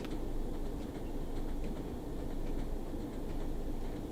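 A passing train in the video game Train Sim World 2 on the Tees Valley Line gives a steady, broad rumble with faint rhythmic clatter, continuous and fairly quiet.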